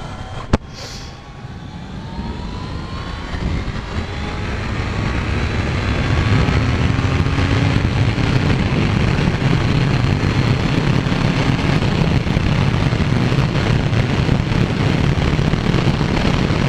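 A Kawasaki Z900 motorcycle engine drones and revs, climbing steadily in pitch and loudness over many seconds, after a single sharp click near the start.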